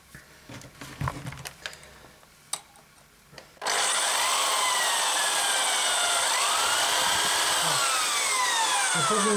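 A 4.2 mm drill bit bores a hole through the rubber cable grommet of a MagSafe cable. A few quiet clicks and handling sounds come first, then a loud, sustained drill whine with wavering pitch takes over.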